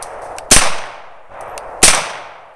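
Two loud, close Walther PPQ pistol shots fired at a target, each a sharp crack followed by a short decaying echo, about a second and a half apart.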